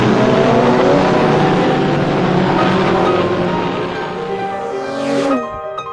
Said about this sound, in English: Hot on Sterling's heels was Roy Salvadori driving an Aston Martin.